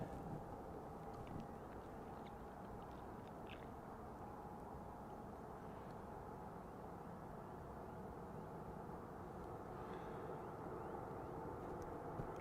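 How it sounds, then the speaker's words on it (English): Distant, low roar of a heavy Boeing 787 or 777 jet departing in wet weather, a steady broadband rumble muffled by wind noise and staying faint throughout, with no voices. "Out to Montego Bay, this aircraft."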